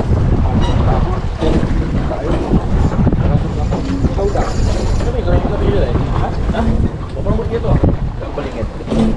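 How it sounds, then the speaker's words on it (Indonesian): Strong wind roars steadily across a boat at sea off Desaru, Johor, during a fishing trip, a loud, continuous buffeting rush with water noise beneath and voices talking over it throughout. "Angin padu, angin padu."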